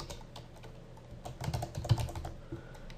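Keys clatter steadily on a computer keyboard as text is entered, a run of light clicks that swells into a louder burst near the middle, with no one speaking.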